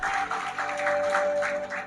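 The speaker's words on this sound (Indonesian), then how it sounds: "Tepuk tangan bagi Allah kita" Church congregation applauding at a Sunday Christmas-season service, steady crowd clapping filling the space with a sustained ringing tone underneath, close and continuous for a short burst.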